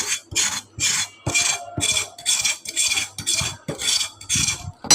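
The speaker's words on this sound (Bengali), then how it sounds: "আমি পটলটা সাঁচতেছি দেখো এরকম করে সাঁচতে হবে" Knife scraping the skin off a pointed gourd (potol), about a dozen rhythmic rasping strokes, close and crisp, each scrape a short bright scratch with small taps of the blade between them, with no talking.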